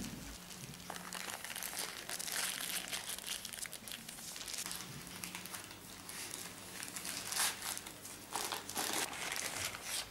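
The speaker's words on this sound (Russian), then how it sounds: "Заверну в бумагу для выпечки" Baking paper crinkles and rustles steadily as a bean roll is wrapped in it, a close, continuous papery crumpling with soft irregular crackles.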